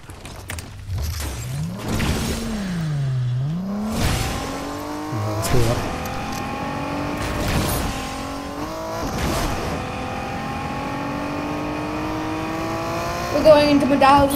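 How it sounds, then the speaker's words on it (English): A car in Fortnite revs and swoops in pitch, then accelerates with several rising pulls punctuated by bangs and thuds, loud and near, with a voice talking over part of it. "I'm going to go over here and grab this car."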